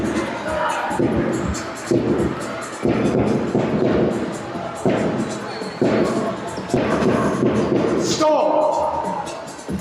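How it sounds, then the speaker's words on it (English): A basketball crowd at a home game of Hemel Storm against Nottingham fills an indoor arena with a steady roar of noise and cheering. Thumps and bangs cut through the roar, and an announcer talks over it. "let's make some noise for your Hemel score!"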